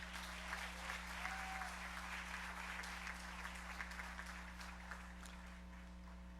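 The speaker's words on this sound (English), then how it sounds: "give these young people who have taken this very bold and important step to improve their lives a round of applause as well" A crowd at a college graduation ceremony applauds the graduates, a continuous, even roar of clapping over a low electrical hum in a large hall.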